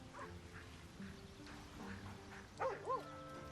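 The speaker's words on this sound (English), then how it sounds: "Oh, hey, it's a puppy." A puppy in Baldur's Gate 3 gives soft whimpers and then two short, rising yips near the end, fairly faint and close, over a low game ambience.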